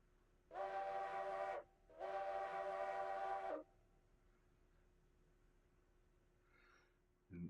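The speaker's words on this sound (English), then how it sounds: "Here, I'll go over, blow a whistle," Steam locomotive whistle in the railroad game Railroads Online, two long sustained blasts with a short gap, then a quiet lull and a brief third toot at the end.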